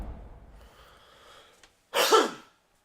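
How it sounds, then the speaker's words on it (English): A single harsh, loud cough from a man with a cold bursts out after a stretch of quiet room noise and soft breathing, close to the microphone. "I got this killer cough"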